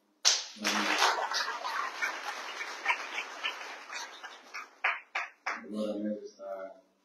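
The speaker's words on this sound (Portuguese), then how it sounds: "Mais uma salva de palmas." An audience at a political party gathering of Apu-PDGB leaders claps steadily for several seconds, a dense patter that thins into scattered claps, with a voice speaking briefly before and after.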